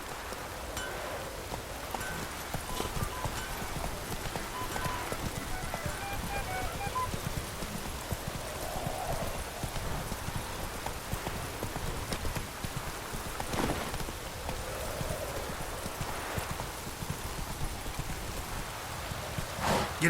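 Horse hooves clip-clop in a steady rhythm as a rider travels in The Witcher 3, with a soft rainy hiss throughout and a few brief louder knocks.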